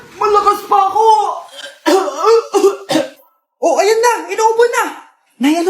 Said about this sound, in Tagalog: Inuubo na.